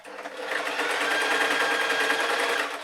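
A sewing machine stitches a seam in a fleece thermal hat, running in a fast, steady mechanical whirr with a rapid needle rhythm for a few seconds, close and loud.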